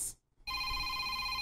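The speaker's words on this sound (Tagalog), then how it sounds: "Si Miss Babes man kining nanawag" Telephone ringing with an incoming call: a steady electronic ring with sustained tones after a short gap of silence, loud and close, with no talk over it.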